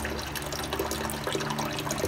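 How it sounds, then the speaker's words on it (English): Rusty engine coolant flushes out through an inline filter in a steady, continuous rush of liquid that stays even and close throughout. "this is my third flush and it's still coming out pretty rusty"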